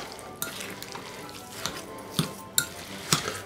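Breadcrumbs get worked into a Philippine-style chicken meatball mixture by hand or spoon, a soft, quiet squishing and stirring punctuated by a few light clinks against the bowl.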